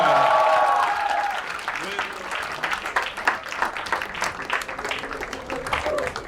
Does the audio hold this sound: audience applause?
yes